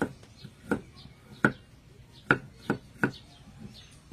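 A knife slices thinly through unpeeled, brushed-clean turmeric root on a board, giving a run of sharp, separate chops at an uneven pace, close and fairly quiet.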